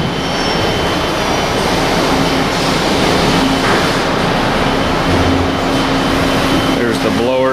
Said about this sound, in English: There's the blowers.